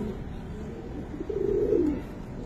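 Giribaz pigeons at a loft give a soft, low coo that swells briefly over a steady background murmur, fairly close but not loud.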